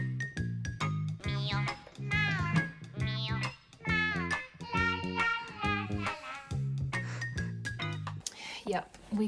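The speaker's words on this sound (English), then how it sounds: "we got a cat" A pet cat named Suzie meows several times in a newly adopted home, with repeated short tonal cries mixed among nearby conversational voices throughout.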